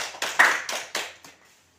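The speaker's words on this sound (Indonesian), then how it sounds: "Berikan tepuk tangan untuk kelompok" Short classroom applause for a student group, a handful of quick scattered claps fading out within two seconds, fairly close and without talk.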